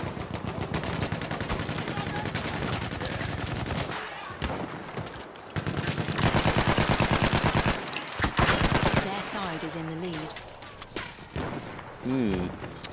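Rapid automatic gunfire hitting the player in a video game, dense bursts of close, loud shots broken by short pauses, with game sounds and a voice mixed in.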